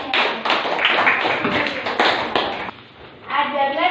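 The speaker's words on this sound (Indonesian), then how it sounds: "beri tepuk tangan untuk kelompok nasional" A classroom applauding a presenting student group, several seconds of brisk, close clapping from a small crowd that thins briefly near the end before a last burst.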